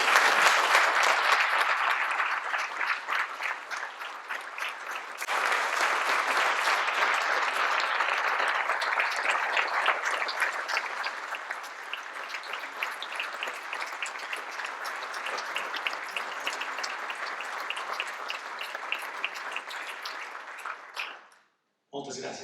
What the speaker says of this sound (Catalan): repetir l'aplaudiment que et van fer el dia que et van donar